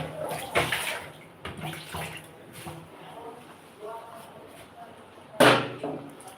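Water is splashed and poured into a pot for cooking rice in a home kitchen, with a few sloshing bursts and a sharp clatter, while a person talks intermittently nearby.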